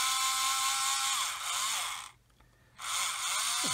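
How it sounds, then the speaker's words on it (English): A power drill whines steadily at high pitch, drilling a hole in a 1/200 scale Titanic model hull, briefly stops, then starts again, with the motor pitch shifting as it bites into the material. "I'm going to start off by drilling a hole in here."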